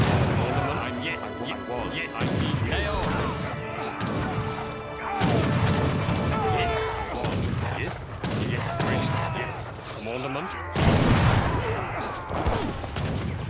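Heavy cannons fire in an Age of Empires 3: Definitive Edition battle, giving a string of loud booming blasts and crashing impacts with dense clutter in between. People talk over them.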